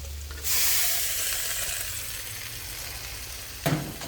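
Vegetables hit a hot frying pan and start sizzling loudly, a steady hiss of frying with a brief clatter of stirring near the end; no talk.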